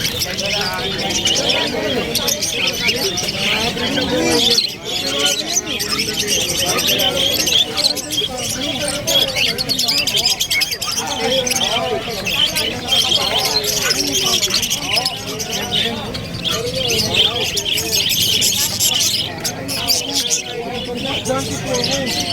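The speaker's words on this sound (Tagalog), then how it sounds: "Grabe mga ibon na gigante." Squawking and chirping of large birds at a pet market in Bulacan, Philippines, mixed into a dense, noisy crowd, with people talking nearby throughout.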